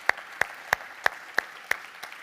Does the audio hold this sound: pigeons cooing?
no